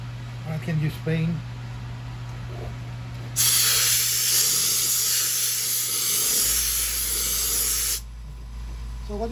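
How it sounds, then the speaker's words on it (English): A spray can hisses steadily onto a wooden piece being coated with metallic-look paint, one continuous burst of several seconds after a short spoken exchange, then cutting off abruptly. "Can you spray?"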